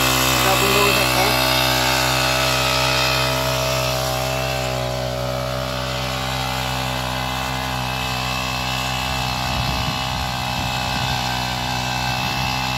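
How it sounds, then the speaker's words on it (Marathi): A backpack petrol pump engine mounted on a soybean spraying machine drones loudly and steadily up close while the machine works a muddy field after night rain, with some rough rattling toward the end. "अशा प्रकारे सोयाबीन फवारणी चालू आहे. पाठीवरचा पेट्रोल पंप आपल्या मशीनवर मांडलेला आहे"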